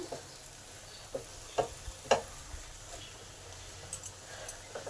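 Cashews sautéing in a pan for a potato and pointed gourd korma, a faint steady sizzle with soft scraping stirs and a few light clicks, quiet and close, no voices.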